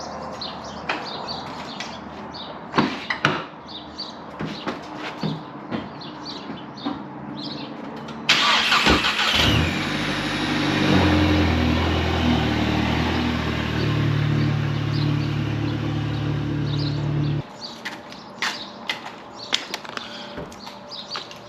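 An LS1-powered Volvo wagon engine cranks and fires at once with a sharp burst, then settles into a loud, steady, deep idle close by for several seconds before cutting off abruptly, with light outdoor background noise before and after.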